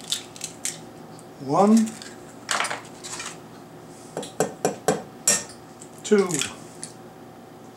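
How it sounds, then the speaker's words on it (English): A couple of eggs cracked against a bowl for a Chinese shrimp omelet: sharp taps and brittle shell snaps in short clusters, with small squishy splats, close and clear while a voice counts aloud between them. "Got a bowl here and a couple of eggs. We'll break them into the bowl."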